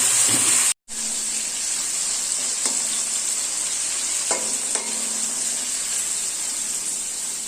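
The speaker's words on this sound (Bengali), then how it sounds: "এবার ভাজা হচ্ছে বরবটি ভাজা হচ্ছে।" Yardlong beans frying in white oil give off a loud, steady hissing sizzle that cuts out for an instant near the start, with a few soft knocks from stirring.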